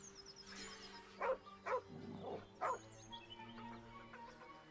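A dog barks in the Baldur's Gate 3 video game, three gruff barks in a row over a quiet game ambience, with a few softer yips after.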